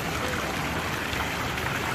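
Water trickles and streams steadily at a shopping mall entrance in Nepal, a continuous close, broadband splashing wash that stays even throughout with no talk over it.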